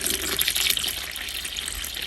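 Lightly fertilized water poured into a tray to bottom-water houseplants, a short steady splashing gush that is close and continuous with no voices over it.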